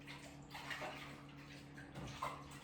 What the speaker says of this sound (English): I'm going to give my hands a wash again.